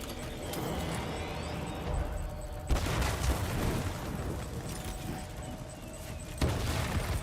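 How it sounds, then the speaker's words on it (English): Fireworks bursting in the video game Death Stranding 2, a dense crackling barrage with sharp loud booms near the start and end, continuous and close throughout. "Those fireworks are fucking pinpoint"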